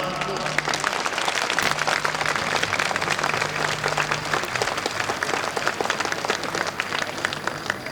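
A crowd at a folk culture festival applauds steadily and loudly throughout, dense clapping continuing without a break, with a voice talking over it.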